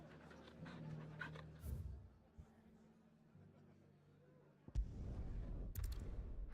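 A dog in Final Fantasy XVI pants softly and gives small whimpers while being petted, heard close against quiet game ambience, with a sharper thud near the end.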